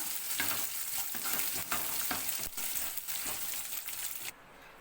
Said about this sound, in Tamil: இந்த தாளிப்பை இதில் சேர்த்துலாங்க